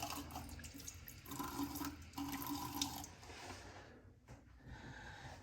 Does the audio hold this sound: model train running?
no